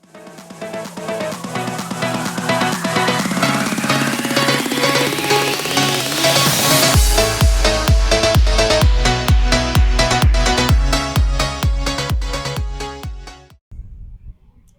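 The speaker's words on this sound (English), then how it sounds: "Just going to have to get after it with the grinder like I did on the leaf spring" An angle grinder cuts a nut seized on poor threads off an RV suspension wet bolt from a MORryde CRE3000 kit. It gives a loud, close whine that climbs in pitch, then a harsh, rapid chattering grind that runs until it suddenly stops.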